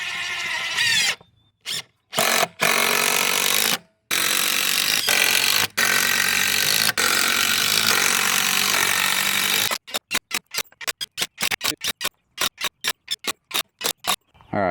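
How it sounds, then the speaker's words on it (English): A power drill drives screws into a wooden 4x6 bed of a farm/ATV wagon, with long loud whirring runs broken by brief pauses, then a rapid series of short bursts as the screws seat, close up. "I'm gonna go through and do the first screw and everything"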